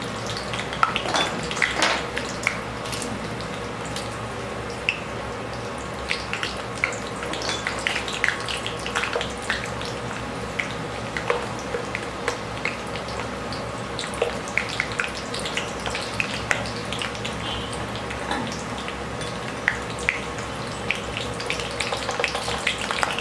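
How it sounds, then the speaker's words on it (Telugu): Curry leaves and hibiscus leaves boil in hair oil in a pan, giving a steady close bubbling sizzle with scattered pops and crackles throughout, with no talk. "కరివేపాకు మరియు మందారం బాగా మరిగేలా చూసుకోవాలి."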